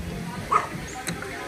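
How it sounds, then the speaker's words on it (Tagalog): Dogs in Bicol bark from a distance, with a short yip and a second faint bark over background noise and muffled talk. "Itong mga aso, mga taga-Bicol na aso, kinakahulan na nga tayo eh."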